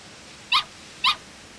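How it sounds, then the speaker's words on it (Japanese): Puppies in the video game Sword Art Online: Hollow Realization give two short, high-pitched yips about half a second apart, clear and close over a quiet background. "もしかしてこの子犬たちって ワン吉の子供だろうな"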